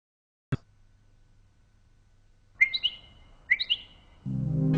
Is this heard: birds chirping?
yes